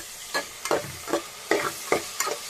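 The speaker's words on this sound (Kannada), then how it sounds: "ಒಂದು ಸ್ವಲ್ಪ ಫ್ರೈ ಮಾಡ್ಕೊಳ್ಳೋಣ." Onions fry and sizzle in a pan for chicken biryani alongside softening tomato, with a steady hiss broken by several sharp scraping stirs of a spoon at irregular intervals, close and clear, with no talk.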